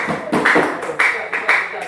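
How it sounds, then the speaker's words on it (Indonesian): A classroom of students applauds a group, four or five loud bursts of clapping about half a second apart, close and distinct. "Beri tepuk tangan untuk kelompok kelompok"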